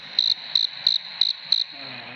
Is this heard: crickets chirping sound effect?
yes